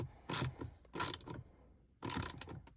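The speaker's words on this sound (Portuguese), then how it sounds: "demora pra poder apertar bem esse parafuso aqui" A long screw being driven into an Audi A3 dashboard panel, three separate bursts of close, grinding ratchet-like turning with short pauses between them, quiet and without speech.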